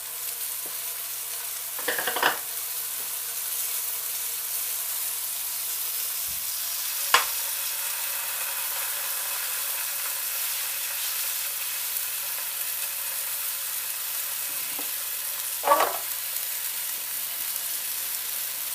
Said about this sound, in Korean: 중간불이나 센 불 정도로 노릇하게 구워줍니다